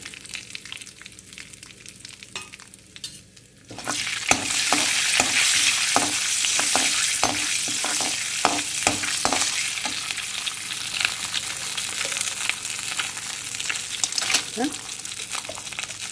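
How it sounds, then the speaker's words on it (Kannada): Curry leaves and turmeric powder hit hot oil and crackle into a loud, steady sizzle after a quieter start, with a spoon scraping and stirring through the pan in repeated strokes. "ಈಗ ಕರಿಬೇವನ್ನು ಸೇರಿಸ್ಕೊಳ್ತಾ ಇದ್ದೇನೆ ಒಂದು ಚಮಚ ಅರಸಿನ ಪುಡಿಯನ್ನು ಹಾಕಿಕೊಂಡಿದ್ದೇನೆ"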